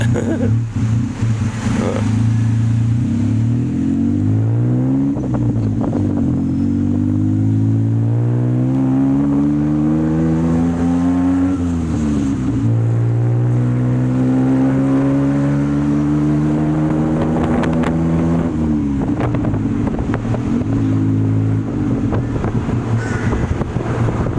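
A tuk tuk rides through Bangkok traffic between Wat Pho and Nana Station, its small engine loud and close, repeatedly revving up and dropping back as it shifts, with wind rushing past and street noise throughout.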